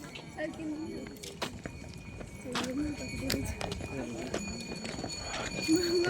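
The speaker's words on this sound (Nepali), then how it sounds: "घोडा राइड" A horse walks on a tourist ride in Mustang, its hooves clip-clopping in an uneven steady rhythm close by, with people talking over the steps.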